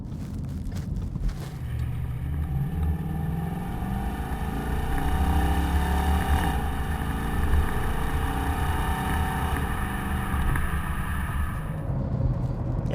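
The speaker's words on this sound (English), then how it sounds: "you start hearing a noticeable difference in the tone of the exhaust versus the stock one" A 2015-2017 Ford Mustang GT with a Roush axle-back quad tip exhaust runs close by, its engine note rising and holding in a deep, steady rumble with no voices.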